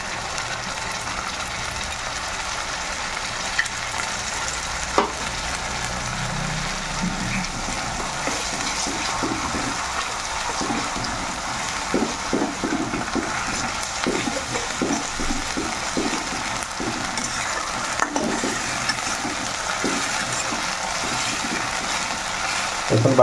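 Chili paste sizzles in a hot pan for a Bengali potoler durmah with pointed gourd, a steady hissing fry running throughout with scattered soft scrapes and knocks of stirring.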